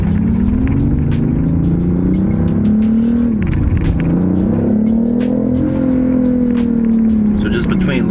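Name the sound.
BMW i8 engine sound piped into cabin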